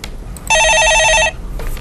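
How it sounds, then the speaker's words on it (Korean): A telephone bell rings in one clear burst of trilling electronic tones, loud and close, on a stock-market call-in show; faint background hiss before and after. "예, 전화 받아보겠습니다."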